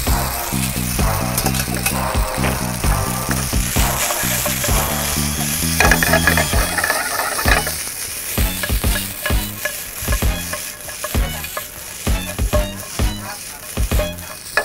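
Garlic and pasta stir-fry in a hot pan with a loud steady sizzle broken by repeated scraping and clattering of the utensil. A voice is heard early on.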